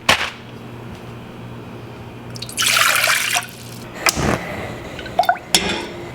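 Water is poured out, 1.5 cups for boiling to rehydrate a Valley Food Storage meal, in a brief close splashing burst followed by a few drips and clinks.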